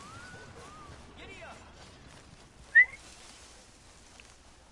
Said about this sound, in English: I can whistle too.